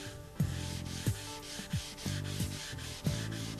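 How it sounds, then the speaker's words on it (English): An abrasive hand pad scrubs scratches on a stainless steel appliance in rhythmic back-and-forth strokes, each pass a dry rasp with a slight thump at the turn, close and steady with no voices. "taking our abrasive pad that's on our handset, let's work back these scratches now to feather them in"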